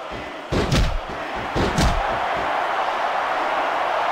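Wrestling arena crowd roaring steadily throughout, with two heavy slams or thuds from the ring cutting through the loud, continuous crowd noise.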